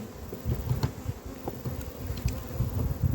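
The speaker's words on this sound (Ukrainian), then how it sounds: "Оббираю бджіл як не можна." Honey bees buzz loudly and continuously, close up, while they are brushed off hive frames, the drone rising and falling with occasional soft knocks.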